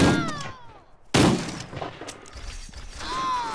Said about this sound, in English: Love the shotgun.